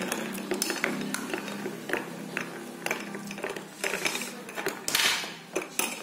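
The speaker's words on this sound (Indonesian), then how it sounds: "Sekarang kita campur kayak orang-orang ya. Kita aduk." Dalgona coffee mixture stirred vigorously in a bowl, with steady scraping, rattling and clinking of the utensil, close and continuous, growing louder toward the end.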